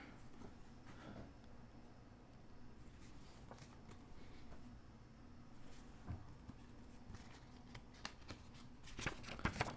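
Paper from a Goyard Cap Vert PM unboxing, an envelope and small booklet, rustles and slides softly at close range, a quiet continuous shuffling with a few sharper crinkles toward the end.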